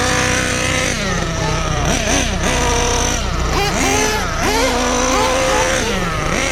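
A new Kyosho USA-1 nitro RC monster truck runs its engine on a first test drive, a loud buzzing two-stroke whine that rises and falls steadily through repeated revs and throttle blips, continuous throughout.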